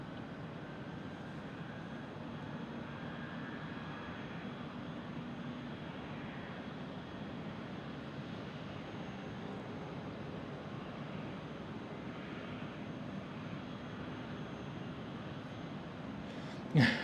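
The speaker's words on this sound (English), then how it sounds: "the Air France A220 starting up" An Air France Airbus A220 starting its engines at Amsterdam Schiphol, heard as a steady, even roar and rumble that holds unchanged throughout, without any talk.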